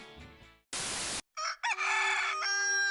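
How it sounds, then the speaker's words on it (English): A rooster crows within a radio commercial, a short loud crow following a brief burst of noise, heard clearly and close with no talk over it. "Are you tired of that pesky rooster waking you up in the morning?"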